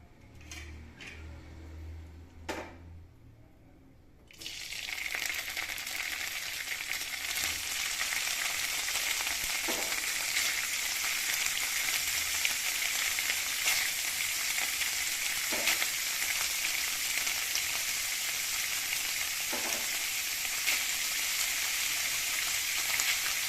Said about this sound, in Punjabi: ਵਿੱਚ ਆਪਾਂ ਥੋੜਾ ਜਿਹਾ ਹੋਰ ਤੇਲ ਪਾਵਾਂਗੇ ਪਨੀਰ ਨੂੰ ਆਪਾਂ ਇਹਦੇ ਵਿੱਚ ਪਾਵਾਂਗੇ